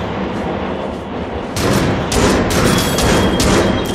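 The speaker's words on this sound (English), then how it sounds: "this is a shotgun! One fucking shot!" Shotgun blasts in the virtual reality shooter game Until Dawn: Rush of Blood, with several loud, sharp bangs in quick succession over a dense, constant background of game noise.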